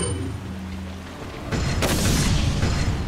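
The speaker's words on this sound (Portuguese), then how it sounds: "Granada de luz para ver se funciona." A flash grenade detonates in the Resident Evil 4 video game. A loud, deep boom hits after a quiet stretch and rolls on as a sustained rumbling blast to the end.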